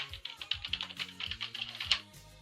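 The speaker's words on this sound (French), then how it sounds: "Je vais juste insérer un mot de passe." Quick, light taps of a computer keyboard as a password is entered, a close run of clustered keystrokes with a few louder clicks, no voice.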